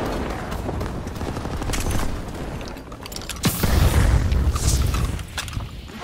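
Explosives planted on artillery guns in a combat video game erupt in heavy booms amid rattling gunfire and bursts of shooting, loud and chaotic, with a big blast swelling midway.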